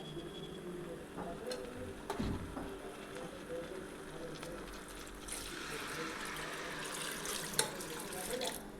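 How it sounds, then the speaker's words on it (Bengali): Water pours steadily into a pot of mutton kosha, a quiet continuous splashing stream with a few faint knocks. "এর মধ্যে আমি অ্যাড করব প্রয়োজন মতন জল।"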